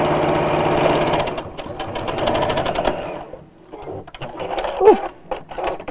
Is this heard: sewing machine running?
yes